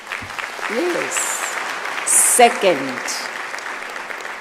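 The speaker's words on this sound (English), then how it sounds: "A round of applause." An audience at a university autumn graduation ceremony applauds with steady, continuous clapping in a large hall, while a voice speaks briefly over it.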